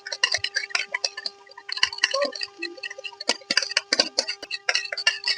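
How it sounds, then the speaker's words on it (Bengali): A spoon mixes ingredients for a face pack in a small bowl, making quick, irregular clinks and taps that repeat steadily over several seconds. "এরপর ভালো করে মিশিয়ে নিতে হবে।"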